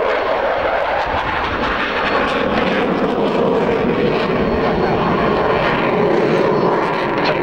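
A Hungarian MiG-29 jet fighter flies a display at the RIAT 1999 airshow, its engines giving a loud, sustained roaring rumble that holds steady for the whole stretch without speech.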